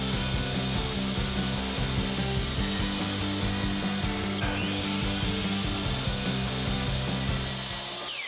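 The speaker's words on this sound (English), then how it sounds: "we're gonna cut this bad boy on the miter saw" A miter saw slices through a wood board for a couch caddy build, a loud continuous whining cut with a brief dip midway before the blade spins down near the end.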